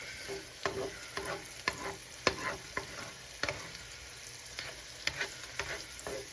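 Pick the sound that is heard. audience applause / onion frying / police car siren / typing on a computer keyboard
onion frying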